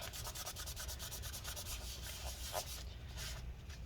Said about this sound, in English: we can go ahead and wipe up the rest of the adhesive that's still stuck there.